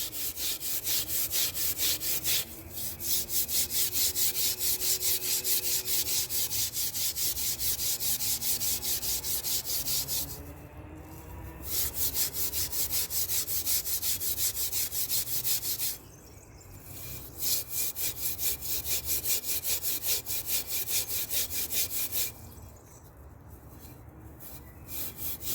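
Rust is scraped off a metal gate before painting, a continuous, close, harsh abrasive scratching that runs on and on, pausing briefly a few times before resuming.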